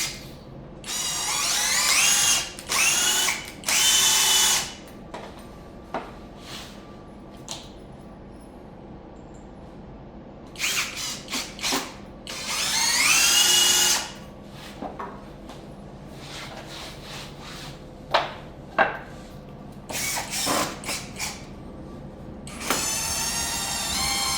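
A cordless power drill drives screws into a solid wood half-roof Montessori toddler bed frame in several short whirring bursts, close and loud, separated by quieter clicks and handling noises.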